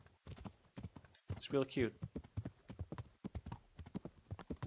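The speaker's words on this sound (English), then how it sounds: "That horse is just always in the middle of the lake, just like bathing." Horse hooves clip-clopping in a steady rhythm in the Kingdom Come: Deliverance video game, with a brief whinny midway and a person talking over it.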